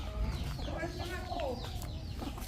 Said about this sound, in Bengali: আমাদের ব্রাহ্মা মুরগি যেটা ওয়ার্ল্ডের সবচেয়ে বড়, আজকে আমরা দেশি মুরগির তলে 3টা বাচ্চা ফুটাইছি